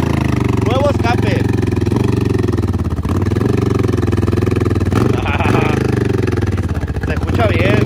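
A motorcycle engine burbles and revs loudly close by with a deep, throaty exhaust note, while a voice speaks faintly underneath.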